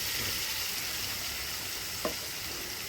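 A paste of onion and tomato frying in hot oil for a spicy soybean dry curry, giving a steady low sizzle with one brief clink partway through and no talking.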